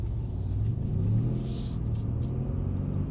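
A Mercedes-AMG 63 engine rumbles with a deep, steady low drone while driving on a track, heard from inside the car, swelling briefly midway with a faint higher whoosh, and no voices.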